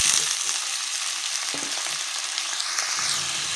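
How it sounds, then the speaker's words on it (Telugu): Cut potatoes frying in hot oil in a pan, a loud continuous close sizzle and crackle with occasional stirring scrapes. "ఇప్పుడు మనం బాగా 10 నిమిషాలు వచ్చేసి బాగా ఫ్రై అవుతాం ఆలుకి"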